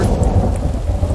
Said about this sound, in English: it's just started raining